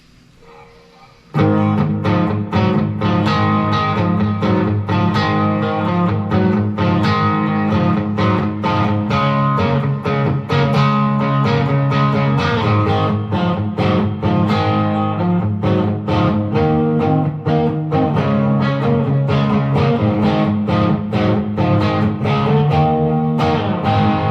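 A Firefly FFST Strat-style electric guitar on its bridge pickup, run through delay and reverb, plays a loud, continuous run of picked notes and chords with a ringing, distorted edge, alone without talk.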